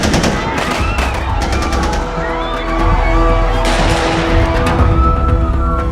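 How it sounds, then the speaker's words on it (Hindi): Rapid bursts of gunfire crack repeatedly, loud and close, in a Hindi film scene of gunmen attacking Mumbai's Chhatrapati Shivaji Terminus, layered over a dramatic soundtrack with rumbling low tones. "दो अनजान आदमी छत्रपति शिवाजी टर्मिनस में घुसे और गोलियां चलाने लगे।"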